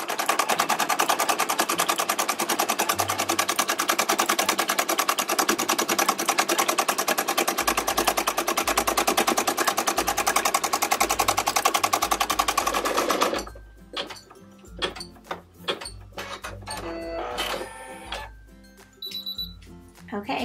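A Brother PE770 embroidery machine stitching a design onto a baby onesie runs with a fast, steady mechanical whirr for about thirteen seconds, then stops, leaving quieter clicks and handling noises.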